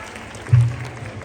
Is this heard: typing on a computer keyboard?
no